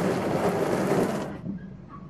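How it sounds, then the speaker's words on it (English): A police water cannon sprays water over cars on the road, a loud, broad hissing rush that drums on the vehicles and then cuts off abruptly, leaving quieter background noise. "Fire hydrant that's going around spraying all the cars on the road"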